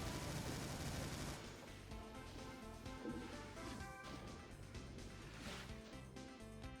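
Rapid chaingunner fire from the Brutal mod of Doom, a dense continuous burst of shots layered over loud game music and explosions, steady throughout.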